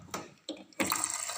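Water from a tap pours in a kitchen while lugaw rice porridge is being made, starting with a few short splashes, then a steady close stream.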